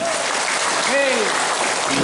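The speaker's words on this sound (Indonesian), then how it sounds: "Tepuk tangan yang mulia" An audience at a Hajj guidance gathering applauds, a continuous, fairly faint wash of clapping with a voice briefly rising over it midway.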